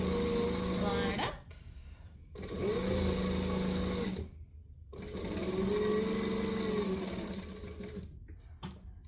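A sewing machine stitching an apron in three steady whirring runs of several seconds each, close and fairly loud, with short quiet gaps between them and faint talking in the background.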